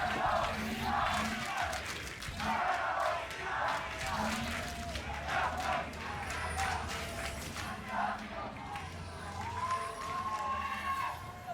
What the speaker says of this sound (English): The crowd erupting here as we are heading into what could be the final game.